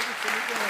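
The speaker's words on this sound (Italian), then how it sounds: "facciamo un applauso intanto" A brief burst of dense audience applause at a live blues band concert in a theater in Palermo, steady clapping from a crowd with a voice speaking over it.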